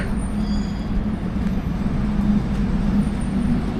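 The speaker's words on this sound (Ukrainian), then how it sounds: "Ось ще один трамвайчик." A tram passes along Panteleimonivska Street in Odesa, a steady low rumble and hum of wheels and motor close by, blended with general city traffic and no talk over it.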